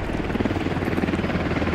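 A helicopter in a video game gives off a close, steady rotor thrum and buzzing drone that stays loud and even throughout.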